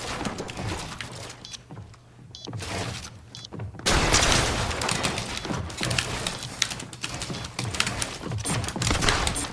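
Gunfire in Fortnite, with a few sharp reports early and then a dense burst of rapid shots and impacts through the rest of the clip, fairly loud and with no talk over it.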